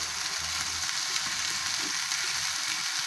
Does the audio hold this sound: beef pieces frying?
yes